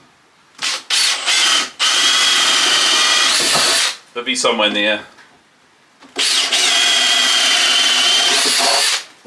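Hand-held power drill boring holes in wood for 12mm coach bolts, several whining bursts including two long sustained runs, close and loud, with brief talking in a gap.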